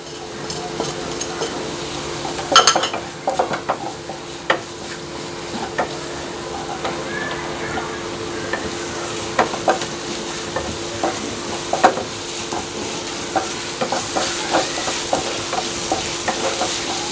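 Onions sautéing lightly in a pan with salt for egg chapati kothu, a continuous soft sizzle broken by frequent spatula scrapes and taps against the metal, close up and without speech.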